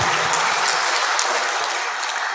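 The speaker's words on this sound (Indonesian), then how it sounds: "Tepuk tangan untuk beliau-beliau Kang Mas." Loud, close audience applause at a gathering, a thick continuous burst of many hands clapping that fills the brief moment without any voices over it.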